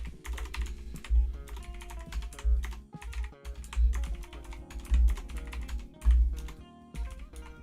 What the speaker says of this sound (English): So let's type in everything.